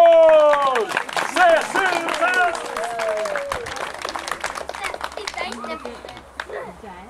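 Applause from an audience at an outdoor event in Mönsterås, Kronobäck, clapping steadily while children's voices and bright tonal sounds rise over it early, the clapping thinning and fading toward the end.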